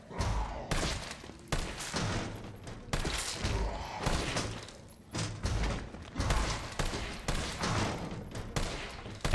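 Gunshots fired at zombies in Resident Evil 3 on Inferno difficulty: a long run of loud, close shots, each with a heavy thudding punch, coming steadily in irregular succession with brief pauses between them.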